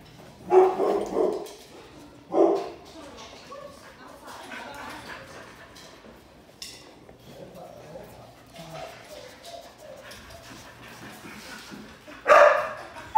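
Dogs bark in bursts at a no-kill animal shelter, loud yelps near the start and end with softer background barking and kennel noise in between.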